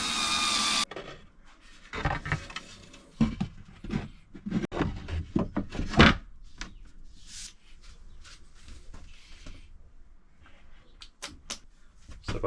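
A power drill drives screws into a solid wooden worktop in a Ford Transit campervan conversion, with short whirring bursts and knocks separated by quiet gaps and soft handling noises.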